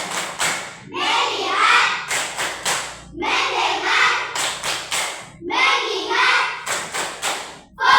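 Classroom of children doing a rhythmic focus clap routine, bursts of group clapping and chanted recitation alternating in a steady pattern, loud and close, with a teacher's voice leading.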